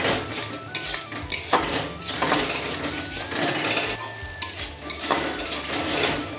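A spice paste without turmeric, loosened with a little water, is sautéed in a pan for a vegetarian pointed-gourd dish, with constant metal scraping and clinking of the spoon over a continuous close sizzle.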